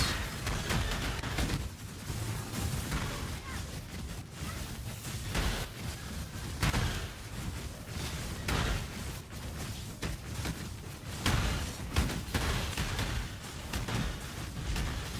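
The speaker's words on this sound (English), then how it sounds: "I missed explosions." Ignite Fireball build in Path of Exile setting off a relentless stream of fiery explosions, dense overlapping booms and bursts pounding continuously at loud volume with no talking.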